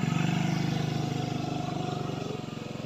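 A motorcycle ride on a road near Barangay San Jose heading to San Rafael, its engine holding a steady pulsing drone with rapid regular firing beats, close and loud throughout, sliding gently lower toward the end.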